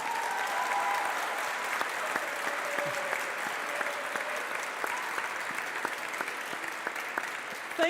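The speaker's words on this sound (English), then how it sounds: "Give a big applause for our event manager, Esme Hulsman." Steady audience applause fills a solar car team's vehicle reveal event, dense clapping continuing evenly throughout with faint voices and a few brief tones in the background.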